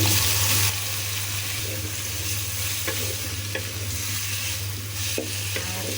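Pointed gourd peels and radish fry in a pan with a constant loud sizzle and occasional stirring scrapes, close up, over a steady low hum, no talking.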